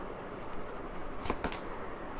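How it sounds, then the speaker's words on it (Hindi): Tarot cards shuffled by hand in a short, soft riffle, with two quick, crisp bursts near the end over a quiet background hiss. "last shuffle and let's see"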